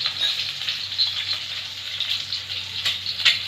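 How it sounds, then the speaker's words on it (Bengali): Eggs seasoned with salt, turmeric and chili powder fry in oil, giving a steady, close hiss and light spattering crackle that runs unbroken throughout, with no talking. "ডিমগুলো আমি হালকাভাবে ভেজে নেব।"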